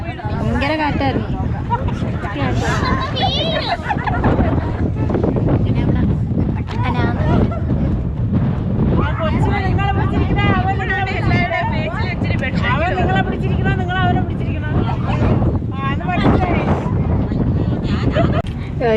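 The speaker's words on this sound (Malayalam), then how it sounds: "ഇവിടെ ഭയങ്കര കാറ്റ്. കാറ്റ് പറത്തിയെടുത്ത് അങ്ങ് കൊണ്ടുപോയി." Strong wind buffets the microphone on a hilltop at Ponmudi, a steady loud rumble running the whole time beneath continuous talking and nearby voices.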